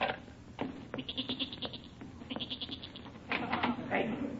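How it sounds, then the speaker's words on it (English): A goat bleats repeatedly as a radio-comedy sound effect, a run of wavering, nasal cries in short bursts that rise louder toward the end, close and fairly prominent. "That goat. I heard him in our cellar."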